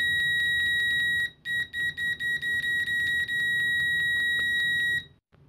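An Aneng S1 multimeter in continuity mode gives a shrill electronic beep, first as a rapid series of short chirps and then as one steady tone that cuts off abruptly near the end.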